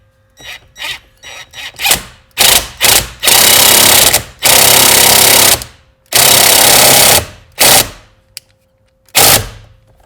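A Ryobi cordless impact wrench on its second setting tightens a steering wheel nut on a Civic Type R steering wheel. Loud, close bursts of rattling hammering come in short and long runs, with pauses between them.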